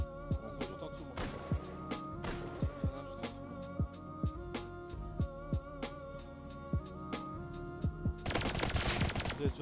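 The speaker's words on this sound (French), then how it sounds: "Non, c'est eux qui me tire dessus" Rapid bursts of gunfire in the survival game Rust, sharp repeated shots spread through the clip over a steady game background, ending in a dense, loud volley near the end; no talking.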